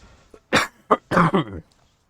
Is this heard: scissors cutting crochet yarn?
no